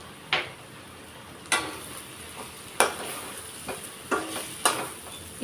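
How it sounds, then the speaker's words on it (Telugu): Curry being stirred in a pan on the heat so it doesn't stick, with a spoon scraping and clinking against the pan in about six short, sharp strokes over a soft background sizzle. "అడుగంటుకోకుండా మనం మధ్య మధ్యలో ఇలా కలుపుతూ ఉండాలి"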